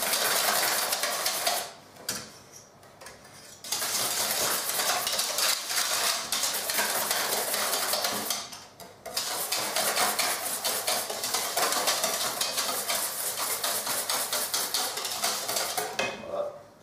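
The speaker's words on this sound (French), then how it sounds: "Je prends un fouet. Et là, je vais commencer à mélanger ma masse." A whisk beats fromage blanc tart batter flecked with vanilla seeds in a bowl, a fast steady scraping clatter with two short pauses, close and alone.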